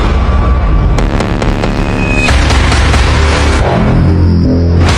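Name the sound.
explosion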